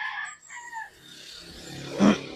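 Chickens and a rooster on a small farm, with tonal crowing calls early on and a sharper, louder cluck or squawk near the end, heard fairly close against quiet background.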